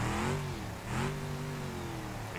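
A car engine in BeamNG.drive with a snapped drive shaft revs as the throttle is feathered, holding a steady mid-pitched drone that dips briefly and then climbs back up.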